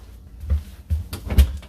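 A fifth-wheel RV interior door, on a new Montana High Country 383TH, swings shut onto its magnet catch, giving a few soft low thumps and knocks at close range with no talk.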